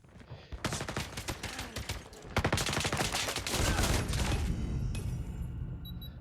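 The Oden rifle fires in a video game, loud sustained bursts of close automatic gunfire with only brief gaps between volleys.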